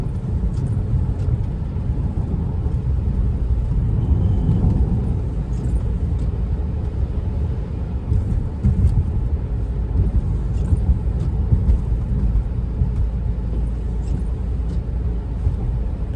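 A Chrysler 300 drives through heavy rain on a flooded road, heard from inside as a continuous low rumble of tires and engine with a steady wash of water noise.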